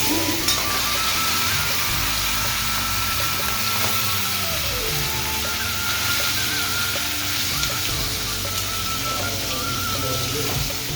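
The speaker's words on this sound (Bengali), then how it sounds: "এরকম মাছটা ভাজা হয়ে গেছে" Bata fish fry in hot oil in a pan, giving a constant crackling sizzle at moderate level, with faint background rumble and occasional scraping.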